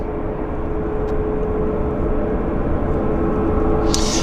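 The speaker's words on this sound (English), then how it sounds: "WestJet on the roll" A WestJet Boeing 737 airliner rolls for takeoff at an airport, giving a steady, distant jet rumble with a faint whine that holds level throughout.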